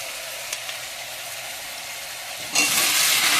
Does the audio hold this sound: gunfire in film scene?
no